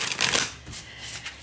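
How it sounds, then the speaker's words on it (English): Tarot cards being shuffled by hand in a short burst, a quick papery riffle that is loudest at the start and then trails off into softer shuffling. "Let's get a good shuffle on these cards."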